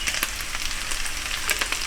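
Chopped green onion fries with Korean beef bulgogi in a hot pan, a steady close sizzle with faint crackles and light stirring taps, no voices.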